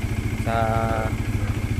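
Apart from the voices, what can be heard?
Bajaj Dominar 400 motorcycle vibrating while idling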